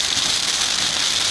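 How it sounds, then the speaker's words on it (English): Steady, dense hiss of rain pouring down, constant and close with no breaks or voices. "We're just sitting here and it's raining."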